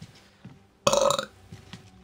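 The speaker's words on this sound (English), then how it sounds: "That's what you call a burp." A single loud, close burp from a person, a rough burst lasting under half a second that stands out against faint background sounds.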